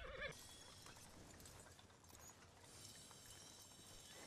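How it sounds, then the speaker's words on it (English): Horse in Red Dead Redemption 2 gives a brief whinny at the start, followed by soft clip-clop of hooves over a quiet ambient game backdrop, all fairly faint. "So here is the horse in the sun"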